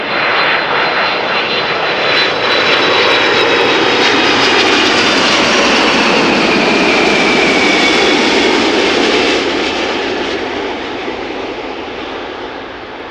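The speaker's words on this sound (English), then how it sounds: "Already up next, Delta Airlines flight." A Delta Airlines jet arriving at Amsterdam Schiphol Airport, its engines roaring loud and close in a steady, broad rush that holds for most of the pass before easing slightly at the end, with no voices.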